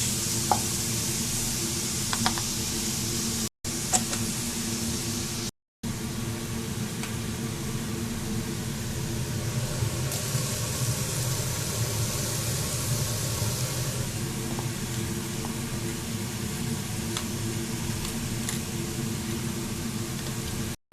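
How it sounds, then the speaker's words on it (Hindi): Carrots and capsicum sautéing in a pan at home: a steady, loud sizzle and hiss runs throughout, with occasional scrapes from stirring and two brief drops to silence. "So here goes the capsicum. तो मस्त सौटे हो रहा है अभी।"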